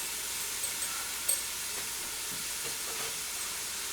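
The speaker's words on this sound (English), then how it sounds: "I'm going to saute that for a couple of minutes" Chopped red pepper, onion and garlic sauté in an Instant Pot, giving a steady soft sizzle. A couple of faint stirring taps cut through it.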